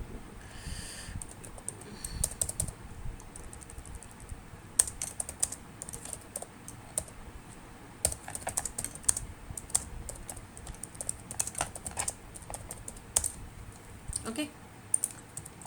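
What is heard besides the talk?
typing code on a computer keyboard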